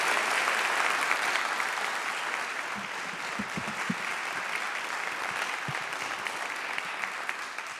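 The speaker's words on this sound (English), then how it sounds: "please, can we greet with a round of applause?" A room full of people applauds the authors at a book event, broad sustained clapping that runs steadily throughout without pause, a few sharper claps standing out near the middle.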